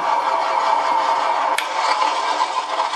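Simulated engine sound from a Beier sound-teacher module in a model car, a steady loud mechanical drone with a brief click partway through, heard alone.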